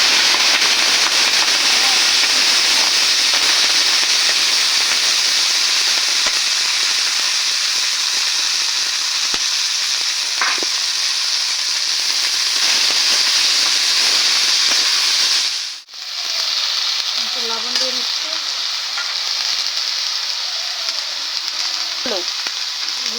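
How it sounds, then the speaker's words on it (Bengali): Chopped cauliflower leaves fry in hot oil with a loud, steady sizzle that briefly dips near the end. A few light scrapes and clinks of a utensil follow. "এই শাকগুলো এখন আমি ভেজে নেবো তেলে দিয়ে তেলের উপরে শাকগুলো দিয়ে দিচ্ছি"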